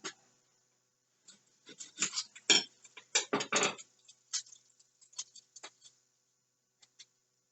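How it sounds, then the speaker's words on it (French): A new kitchen knife chops an onion for homemade baked beans with salt pork: a close, irregular series of crisp cuts, some clustered in quick bursts, others spaced apart, with no voices. "Pour couper l'oignon, je prends un nouveau couteau"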